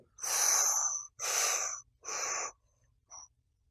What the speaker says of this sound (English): like belly breathing, breathe in on 4